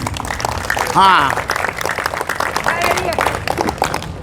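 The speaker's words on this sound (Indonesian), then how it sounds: "Yang meriah berikan tepuk tangan bagi Yesus." A church congregation claps loudly and continuously for Jesus during a sermon, with raised voices shouting and cheering over the applause the whole time.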